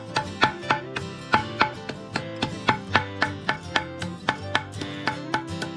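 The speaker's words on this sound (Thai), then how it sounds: "นี่เขาจะฟักเนื้อกระรอกแบบนี้เนาะให้มุนๆ" A knife chops squirrel meat finely on a board in a rapid, steady rhythm of sharp, close knocks, about three per second, with no talking.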